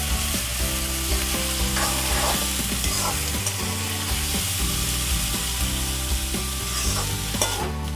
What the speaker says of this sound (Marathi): चला, आपलं आता तेल तापलेलं आहे तर आपण फर्स्ट आता कांदा टाकूया।